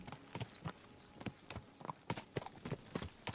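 In Kingdom Come: Deliverance 2, a horse's hooves clop along at a steady walking pace, a dozen or so crisp, close strikes in a regular four-beat pattern over faint ambience.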